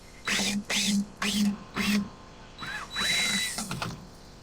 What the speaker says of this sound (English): Drill this stupid thing out.